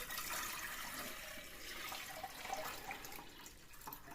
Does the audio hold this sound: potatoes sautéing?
no